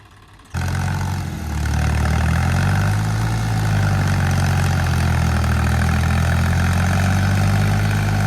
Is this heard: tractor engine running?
yes